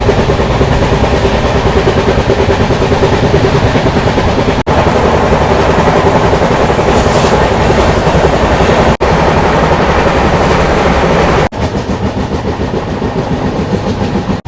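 Aboard the Tamil Nadu Sampark Kranti Express, a sleeper coach fills with a loud, continuous roar of the running train, with rattling and rhythmic wheel clatter throughout.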